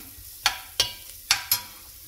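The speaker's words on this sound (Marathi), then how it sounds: "ह्याला मी छान ना 3-4 मिनटं असं परतून घेतलं या भाजीला, थोडंसं क्रिस्पीनेस सारखं।" Cauliflower and carrot are sautéed in a pan, with a low sizzle broken by four sharp spatula scrapes and stirs in quick succession.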